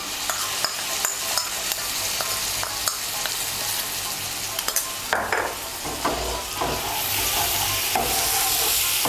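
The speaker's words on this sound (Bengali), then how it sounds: "মশলাটা ভালো করে মিশিয়ে নেব।" Spice paste of cumin, chilli and coriander powder being stirred as it fries in a pan for a taro curry, with a steady sizzle and hiss under repeated scraping strokes of a spoon, close up and without talk.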